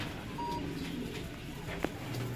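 A racing pigeon arrives at a loft after flying in from Tacloban, Leyte, giving soft, faint coos over quiet outdoor background noise, with a brief sharp click near the end.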